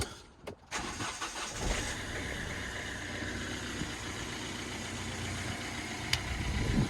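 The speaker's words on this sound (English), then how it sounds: "so we're just going to start it up, let it idle for a bit." A Mini car engine cranks briefly, catches and settles into a steady rough idle, heard close and moderately loud with no talking.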